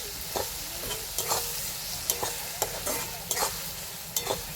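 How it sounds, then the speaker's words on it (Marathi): Onion, garlic and tomato fry in a pan for okra masala, with a steady sizzle under repeated sharp scrapes of a spoon at an uneven rhythm, close by and fairly loud. "सगळं मिक्स करून भाजून घेऊया."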